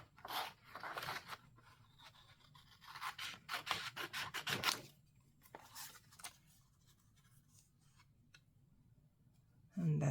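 Scissors cut through paper for a junk journal in close, quiet bursts of crisp snipping and scraping, with pauses between cuts and a louder rustle at the end.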